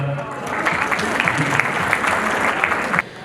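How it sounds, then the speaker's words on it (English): Audience applause fills a hall at a fundraiser for the Shaukat Khanum hospital, a dense steady wash of many hands clapping at close range that stops abruptly near the end, with voices faintly mixed in. "Let's give another round of applause for them."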